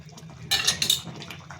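Drumstick leaf shukto being mixed in a cooking pot, giving a brief burst of clinking utensil-on-pot scrapes and wet stirring, moderately close and fairly quiet, with no talk.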